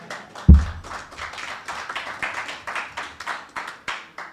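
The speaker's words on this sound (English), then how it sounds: "give her a round of applause" A small audience at a Regency Petroleum annual general meeting claps after one sharp opening clap, the applause staying even and moderately loud for a few seconds before thinning, with no voices over it.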